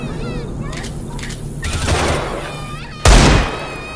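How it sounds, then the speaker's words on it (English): A single heavy shotgun blast cracks out loud and close near the end, rising above a busy bed of Left 4 Dead 2 game noise with voices talking underneath. "I'm finishing with the shotgun."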